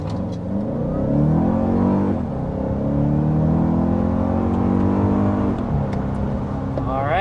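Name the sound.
2024 Toyota Grand Highlander accelerating to 60 mph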